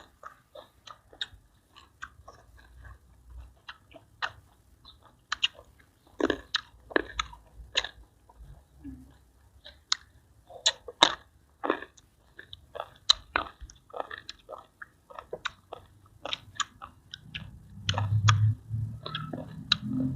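Blanched squid is chewed close to the microphone, with repeated soft wet bites and crunchy chomps in an irregular rhythm, quiet and without talk.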